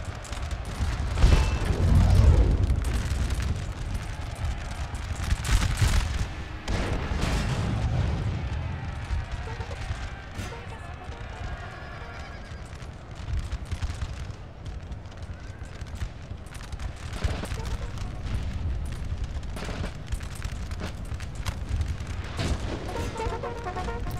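Musket volleys and artillery fire crack and boom through a Napoleon: Total War battle, bursts of distant gunfire and thuds scattered over a steady battlefield din, with someone talking over it.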